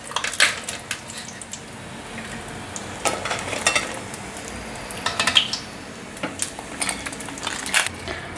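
Food deep-frying in hot oil on a third pass to brown it golden, a steady crackling sizzle with bursts of clinking from utensils and pans, close and fairly quiet, no voices.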